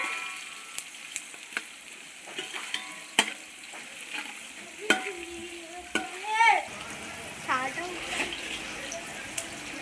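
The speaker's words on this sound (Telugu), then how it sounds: "ఇప్పుడైతే పచ్చిమిర్చి అయితే వేసుకోవాలన్నమాట. ఇలా అయితే ఎర్రగా వేయించుకోవాలన్నమాట." Green chillies frying in a pan for a simple pulao, with a steady oily sizzle, scattered stirring clicks and scrapes, and a few brief watery splashes near the end.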